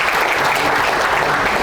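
Loud, steady applause from the audience fills the hall at a book concert, dense and continuous clapping with no gaps from start to finish.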